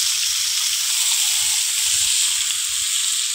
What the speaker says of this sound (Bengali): এবার মাংসটা ভালো করে কষিয়ে নেব।